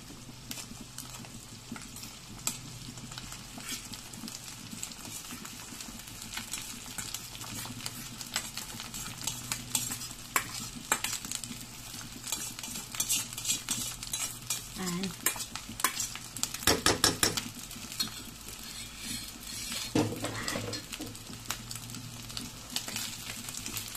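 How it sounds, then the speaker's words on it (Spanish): Rice sizzles in a frying pan with bacon in sauce while being stirred, a steady close-up crackle broken by scraping spoon strokes and a few louder clatters. "Y ahora echamos el arroz."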